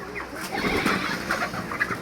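Thirty-five-day-old broiler chickens, ready for sale, cluck and murmur steadily in a crowded flock, a dense close chorus with a faint voice underneath.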